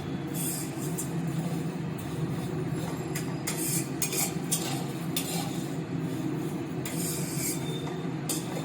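Vermicelli is fried and stirred in a pan over a medium flame, a continuous dry rustling and scraping with intermittent sharper scrapes of the spatula against the pan, close and steady throughout.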